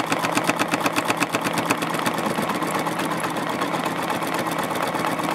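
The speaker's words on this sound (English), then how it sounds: "I've just placed my foot on the foot control and let the machine do the work." Juki F600 computerized sewing machine stitching under foot-control power, a steady, close mechanical whir with rapid rhythmic needle clatter running continuously throughout.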